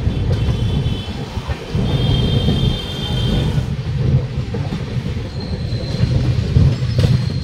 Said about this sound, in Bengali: একদম 9:51 ফ্রেন্ড ট্রেনটা পৌঁছেছে